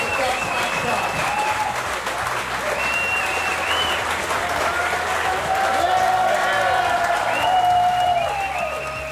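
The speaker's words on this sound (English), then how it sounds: "a big round of applause for US1 Taylor Canfield, winner of the Dutch Match Cup" Crowd applause at the prize-giving for the Dutch Match Cup 2014 sailing event, steady and loud clapping throughout with whistles and cheers rising over it.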